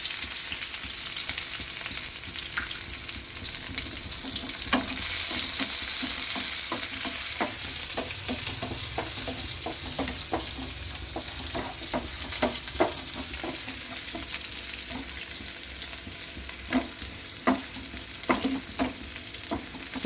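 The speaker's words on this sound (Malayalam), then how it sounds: "നമുക്ക് എണ്ണ ചൂടായി നമുക്ക് കടുക് അങ്ങോട്ട് ഇട്ട് കൊടുക്കാം" Mustard seeds frying in hot oil with shallots and chili, a loud, steady sizzle with dense popping crackles and occasional stirring scrapes, close up and without talk.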